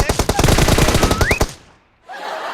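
Automatic gunfire in the battle royale video game PUBG: a rapid, loud burst of close shots for about a second and a half, then a sudden drop to quiet game ambience.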